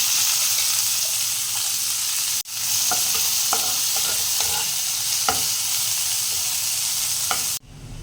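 Sliced onions sizzle in hot oil with whole garam masala and bay leaves for an egg and prawn khichuri, a steady loud frying hiss with a few spoon scrapes and taps as they are stirred.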